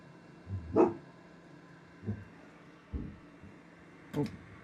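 A female dog barks at the postman several times from a distance in a home workshop where laptop and PC microsoldering repairs happen, the short barks spread out and faint over room hiss.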